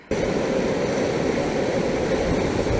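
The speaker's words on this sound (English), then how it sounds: "I'll just enjoy the waves for a bit" Steady broadband wash of ocean surf rolling onto the shore at Pouch Cove, Newfoundland, a continuous close roar with no talk over it.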